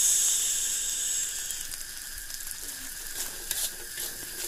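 Kwetiau noodles sizzle and hiss while being stir-fried in a hot pan, a steady loud frying crackle with occasional scraping stirs.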